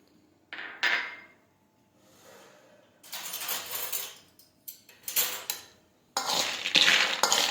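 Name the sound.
mixing peanuts with lemon juice and spices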